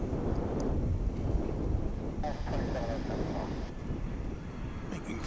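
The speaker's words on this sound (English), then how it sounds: "here comes that 767" UPS Boeing 767 on final approach at an airport, a distant low rumble and faint whine under heavy wind buffeting on the microphone.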